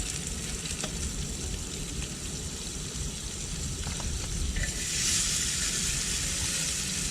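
Butter frying in a pan with potatoes, onions and other vegetables, a loud steady sizzle that continues throughout and grows brighter near the end as the food is stirred.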